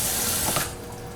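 Kitchen tap water running into a sink while chicken is rinsed, a close, steady splash that stops abruptly partway through.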